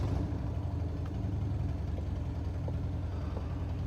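A motorcycle engine rumbles steadily in the background with a low, throbbing drone at fairly loud level and no speech over it.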